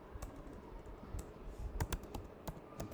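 Quiet, close typing on a computer keyboard: a run of light, irregular key clicks with a few sharper taps clustered near the end, and no talking.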